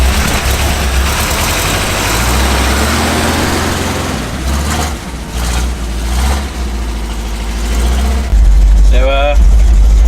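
A Chevy car engine runs steadily after being refuelled, with help from a truck, a loud low rumble holding throughout with voices talking over it.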